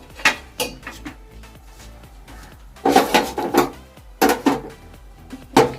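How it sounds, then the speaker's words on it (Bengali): Whole new potatoes dropped into a pressure cooker, producing a series of irregular hard thuds and clatters in bursts, close and clear with no talk. "এবার এই আলুগুলো দিয়ে দিচ্ছি, গোটা আলু"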